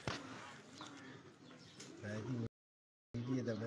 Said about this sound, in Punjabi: ਮਾਸ਼ਾਅੱਲਾ ਇਹ ਕਬੂਤਰ ਜੀ